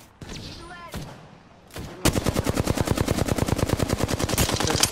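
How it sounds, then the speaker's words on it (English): Rapid automatic gunfire bursts out in a video game shootout, a fast, evenly spaced stream of loud shots running without pause after a brief stretch of quieter game sounds and voice. "Getting shot at."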